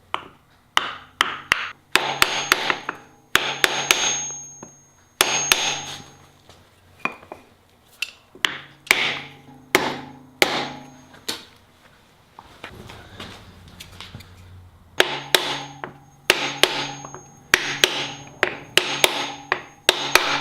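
Repeated sharp taps of a piece of pine driving a seal into a KTM lower heim joint shock bearing, close and loud, in quick bursts of strikes separated by short pauses.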